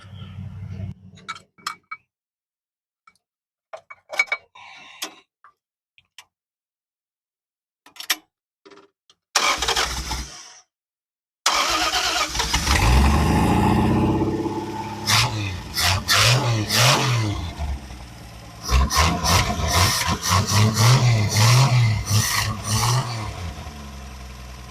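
An old car engine, long laid up after a Slant 6 swap and known for leaking oil, cranks and catches near the middle, then runs loud and steady with rising revs, after a stretch of scattered clinks and quiet.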